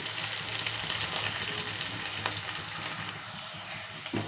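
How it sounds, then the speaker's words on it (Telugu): Fish pieces for a fish curry sizzle steadily in a hot pan, a continuous bright crackle of frying with no voices. "ఇదిగోండి ముక్కలు అయితే వేస్తున్నాను."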